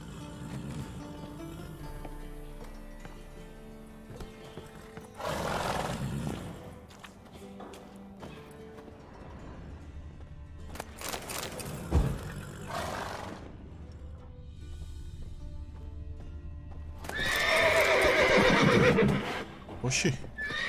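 Horses neigh and whinny inside a stable in The Witcher 3, several loud bursts over game music and ambience, with a person talking at times.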